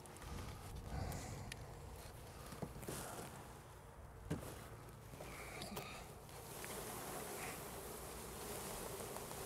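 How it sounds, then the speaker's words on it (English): A mass of honeybees is shaken into a hive, filling the air with a dense, close buzzing swarm punctuated by a few soft knocks, with no talking. "Now we shake all these bees into the hive."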